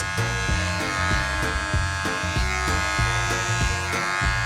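A cordless Wahl Magic Clip hair clipper with a lithium-ion battery runs close by, a steady electric buzz with rhythmic pulsing as it works through hair at a barber session, no talk.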